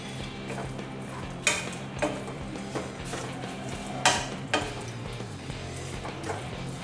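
Crispy potatoes are stirred in Schezwan sauce in a pan, giving a soft sizzle with a handful of sharp spoon-against-pan clinks spaced irregularly.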